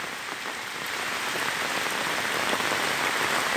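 Steady rain pours on a bee farm during the rainy season, a dense, continuous hiss of drops striking surfaces, close and fairly loud, with no voices.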